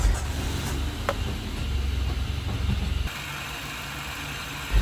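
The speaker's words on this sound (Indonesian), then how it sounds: "Lalu hidupkan mesin." A car engine idles during an engine flush with Liqui Moly cleaner in the oil, a steady low rumble that drops slightly in level partway through.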